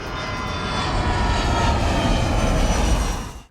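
An airplane roars steadily in a film scene as it comes in to land over a city, a loud, broad engine rumble with a high whine that holds for over three seconds, then cuts off abruptly.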